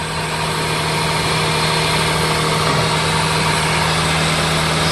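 A scrapyard-sourced Acura J32A2 V6 with 87,000 miles, swapped into a 1995 Mazda Miata with a custom intake, idles steadily and evenly throughout, a close, continuous low engine hum with no talk over it.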